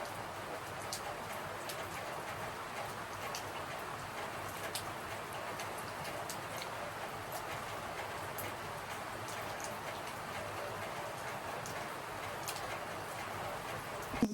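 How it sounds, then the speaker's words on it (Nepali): Steady rain falling throughout on a rural home in Nepal, a soft continuous patter with faint raindrop ticks and an occasional distant bird, no talking. "दिनभरि पानी पर्छ क्या हो"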